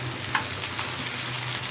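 Okra (lady finger) sizzles steadily in hot oil in a pan for a curry, a soft continuous hiss with faint crackles and no voices.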